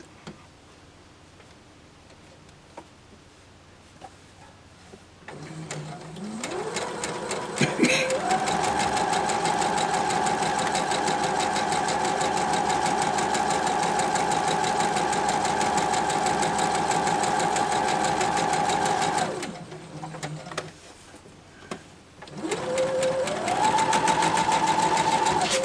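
A domestic sewing machine stitches quilt-as-you-go blocks in long steady runs, a loud continuous whir that stops briefly near the end and then starts up again, with no talking over it.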